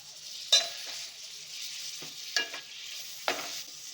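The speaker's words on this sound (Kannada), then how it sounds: "ಈಗ ನಾನು ಟೊಮ್ಯಾಟೊ ಹಾಕ್ತಾಯಿದ್ದೀನಿ" Tomatoes go into hot masala for a Muslim-style biryani, frying with a soft steady sizzle; three sharp stirring scrapes and clatters stand out over it, close and alone.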